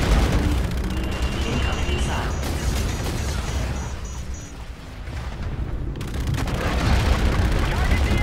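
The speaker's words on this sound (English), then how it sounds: "Incoming missile." A missile explosion in Call of Duty: Infinite Warfare on Xbox One, heard as a continuous loud roar of blasts and rumble with a brief dip before a fresh surge, and a voice briefly present under the noise.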